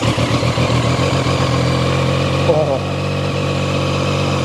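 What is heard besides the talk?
Zontes 703RR triple-cylinder motorcycle engine idling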